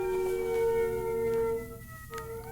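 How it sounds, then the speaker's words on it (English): Ambulance sirens wail in a steady, sustained tone with layered pitches, fairly loud and close, sounding alone without voices. "Those are some serious sirens. Somebody's getting their shit rocked in that ambulance."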